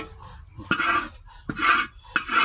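A spoon stirs and scrapes dry coconut chutney powder around a pan, producing close, intermittent scratchy rasps with short clicks of metal against the pan at irregular intervals.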